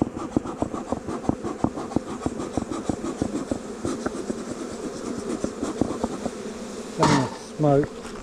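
Honeybees buzz steadily at an open hive full of swarm cups during winter preparations, with dense humming and scattered crackling taps from frames, and a brief voice near the end.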